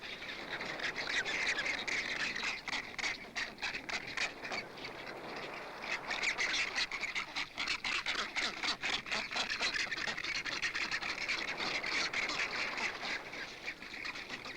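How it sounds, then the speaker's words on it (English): Young penguins squawk and call continuously across a crowded colony, a dense, loud chorus of overlapping harsh cries without a break. "When Cindy walked through the colony during this period, the young penguins were slightly apprehensive"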